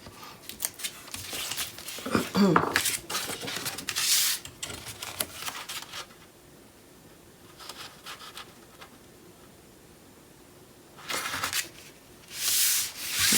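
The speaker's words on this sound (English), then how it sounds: "You're going to score a 1/2 inch on the 6 1/4 inch side." Scoring tool dragged along cardstock for a notebook project, several scratchy rasping strokes in bursts with quiet gaps between, close and fairly loud.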